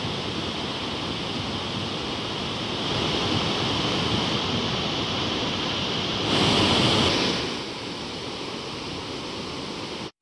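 A constant broad roar of water released through the opened gates of the Isapur dam into the Painganga river at 54,400 cusecs, a dense rushing wash that surges briefly louder near the end.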